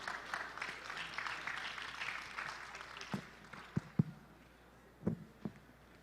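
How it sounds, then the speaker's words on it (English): Audience applause in a hotel ballroom at a conference session, a soft, steady patter of many hands filling the first seconds, then thinning into scattered claps and a few louder single hits near the end. "Please give a round of applause once again."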